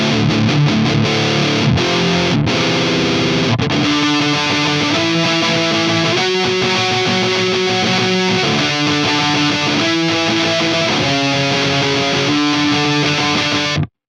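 A high-gain distorted electric guitar, played through a Marshall-style amp profile, chugs heavy palm-muted chords and then rings out a sustained riff, loud and dense with no voices.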